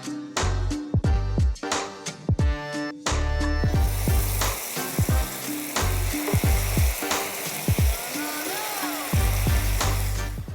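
Tortillas frying in a pan until crisp for chilaquiles give a loud, steady sizzle, with sharp clatters of utensils against the pan early on and softer scraping afterward.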